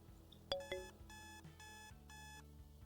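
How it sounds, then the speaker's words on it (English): An in-game alarm clock in the video game Ore Factory Squad rings in repeated electronic beeping bursts, steady and moderately loud over faint background music, with no talking. "And we have an alarm to wake us up."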